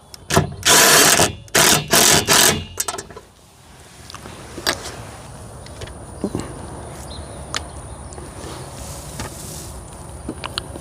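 An impact wrench tightens in several loud, close bursts of hammering rattle, each lasting under a second, then stops. Faint clanks and tool handling follow in the quieter stretch afterwards.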